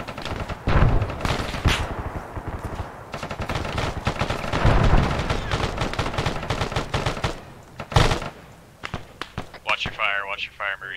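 Rapid automatic gunfire in a military video game, dense sustained bursts close and loud with a brief pause near the end, while voices talk over the shooting.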